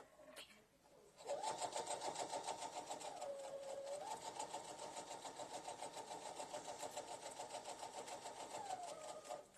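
A sewing machine stitches across quilted fabric for an Easter basket, a fast even mechanical whirring that starts after a brief pause and runs continuously, briefly dipping in pitch mid-run before settling back.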